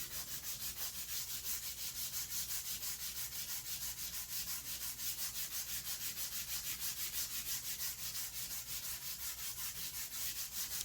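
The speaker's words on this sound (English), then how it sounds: "this wood fill is so easy to hand sand" Hand sanding wood filler gives a steady, rhythmic scratchy rubbing, back-and-forth strokes repeating evenly, close and fairly quiet.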